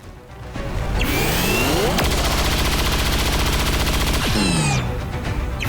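Sustained rapid bursts of chain shot gunfire from a soldier in the XCOM 2 game, loud and dense, with sweeping whooshes at the start and end and no talk.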